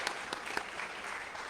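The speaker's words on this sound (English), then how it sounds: "Let's give him a round of applause." An audience applauds a visiting mayor, a soft, distant patter of clapping with a few sharper claps standing out, fairly faint and brief.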